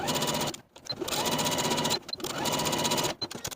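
A sewing machine edge stitches along the inner fold of a narrow skirt hem, running in three steady close bursts separated by brief pauses, with no talk.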